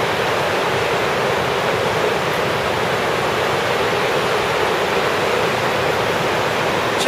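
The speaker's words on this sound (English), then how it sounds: "Niagara River." Rushing water of the Niagara River in the Niagara Glen, a loud, steady broadband roar that continues unbroken throughout, with no voices.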